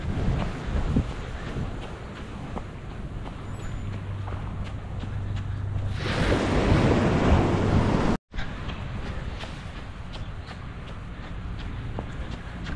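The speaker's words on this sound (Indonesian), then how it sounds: "Ombak, ombak, ombak." Continuous rushing surf noise at Tanjung Batu beach, Bintulu, with a louder swell crashing in midway, under steady wind buffeting the microphone.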